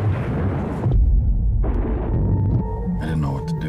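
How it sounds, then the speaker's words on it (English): A loud, rumbling explosion tearing open a spacecraft hull, a dense low roar that cuts off abruptly and then returns as a sustained blast with crackling debris, close and overwhelming. "The explosion blasted open the hull."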